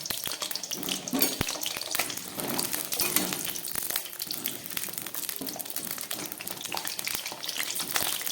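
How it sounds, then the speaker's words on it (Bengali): A few potato pieces fry in oil in a wok for a Bengali-style chicken soup, a busy, crackling, watery sizzle that stays fairly loud and even throughout, with scattered stirring knocks and no talk. "তেলটা বসিয়ে দিলাম, কয়েক টুকরো আলু আমি ভেজে দিচ্ছি।"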